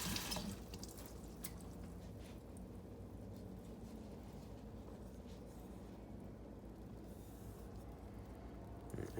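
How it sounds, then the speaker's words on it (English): Water splashes and runs steadily while slurry is rinsed off a coticule whetstone used to hone a Dovo straight razor. The rinse is a continuous, moderately faint trickle with occasional drips. "I'll just stop and rinse it off."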